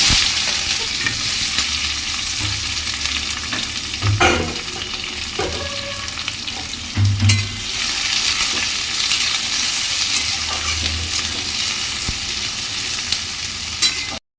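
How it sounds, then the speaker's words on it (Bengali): Onions fry in a hot pan of oil with panch phoron and bay leaf, a continuous loud sizzle broken by occasional stirring scrapes and knocks, with no talking. "এবার পেঁয়াজ দেবো।"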